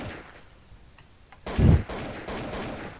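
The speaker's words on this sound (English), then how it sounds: "The gunshot?" A single loud gunshot in Counter-Strike: Global Offensive cracks out after a quiet stretch, followed by a lingering rumble and echo that fades over the next second and a half.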